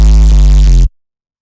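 Loud, buzzy synth bass played as a lead line, sustained notes with a couple of pitch changes, stopping abruptly after under a second.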